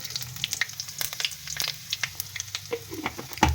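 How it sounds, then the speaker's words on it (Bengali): Dried red chillies, a bay leaf and five-spice seeds frying in hot oil at the start of a sabudana khichuri, giving a quiet, steady crackle with scattered sharp pops and no voices. "তো তেল গরম হওয়ার সাথে সাথে প্রথমেই আমি দিয়ে দেবো শুকনো লঙ্কা, একটা তেজপাতা, আর একটু"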